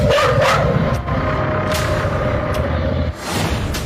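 Stray dogs barking on the streets of Bhusawal: several short barks spaced through the clip over a dense, steady background of street noise.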